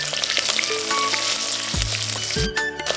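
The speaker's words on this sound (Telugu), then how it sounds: "జీలకర్ర ఆవాలు గోలిన తర్వాత వేసుకోవాలి" Cumin and mustard seeds sizzle steadily in hot oil for a Telangana pappula pulusu, a dense continuous crackle with a few clinks of a utensil against the pan.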